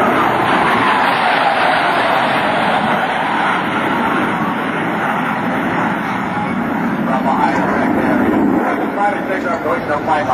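US Navy Blue Angels jets perform a double farvel pass at an Air National Guard open house air show, a loud sustained jet roar filling the air throughout, with a commentator's voice over the noise.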